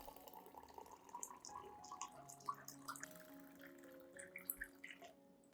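Warm water, 500 milliliters, trickles and drips into a clean glass cup holding chopped garlic, a soft close splashing pour with scattered drips, fairly quiet and alone.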